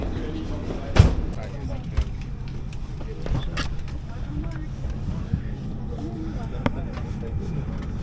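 Inside the cabin of an Easyjet Airbus A319 in row 7A beside the engine, a constant low rumbling drone fills the background with occasional faint clicks and knocks.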